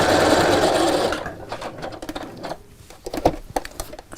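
A sewing machine stitches with shirring elastic in the bobbin, running in a fast continuous whir for about a second before breaking into short irregular bursts of clattering needle strokes, close up and without talk.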